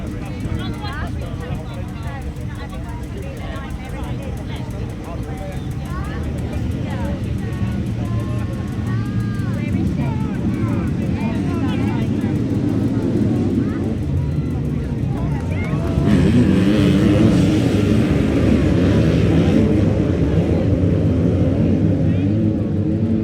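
Inside a van on the road, a steady low rumble of engine and road noise fills the cabin and swells louder partway through, with faint voices murmuring underneath.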